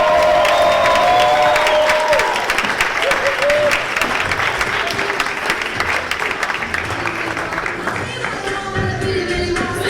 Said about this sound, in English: Let's hear it for the amazing Tamia Brown